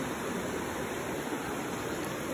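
River water flows in a steady, dense rush of broadband noise, close and continuous, with no talking.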